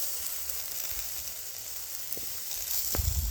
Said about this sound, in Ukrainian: Так, картопельку смажимо.